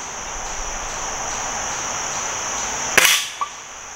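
A Stoeger S3000-C Compact pellet air rifle fires a single sharp, close crack with a short tail and a faint impact tick after it, over a steady background of insects chirping outdoors.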